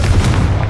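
A Confringo blasting spell detonates in the Hogwarts Legacy video game, a loud, dense, deep boom filling the whole short burst with heavy low rumble and no talking.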